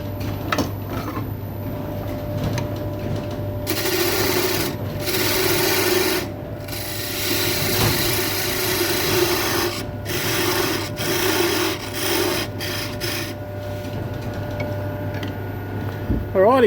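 Sandpaper held against a turned Stone Pine and Meranti salt and pepper set spinning on a lathe, giving a steady, close rasping hiss in long stretches over the motor's low hum, with brief pauses between passes.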